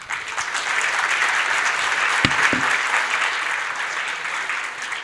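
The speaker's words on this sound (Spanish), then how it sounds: "aplauso doble por venir desde Colombia también" Audience applause at an international technology forum in Mexico, a steady even patter of many hands clapping from start to finish, with one or two sharper thuds near the middle.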